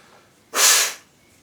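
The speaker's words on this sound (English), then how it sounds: "I'm going to sneeze." A single sharp, breathy sneeze, set off by dust from dry orchid bark, bursts out about halfway through, close and fairly loud, lasting around half a second against a quiet background.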